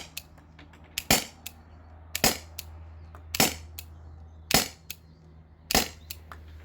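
T4E TR50 CO2-powered marker fires single shots on a well-used CO2 cartridge, five sharp cracks about one second apart, each with a brief hiss, plus quieter clicks between them.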